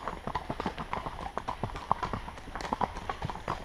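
Horse hooves clip-clopping on hard ground at Fair Hill, a brisk, regular close-up stream of clear hoof strikes, with voices talking over the steps.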